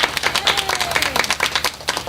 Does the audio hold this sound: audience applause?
yes